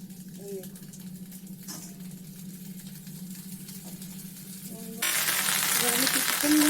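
Prawn parcels wrapped in bottle gourd leaves sizzle in oil on a tawa, a steady low frying hiss under faint talk, then a sudden louder, brighter crackle and spit as more oil heats up near the end.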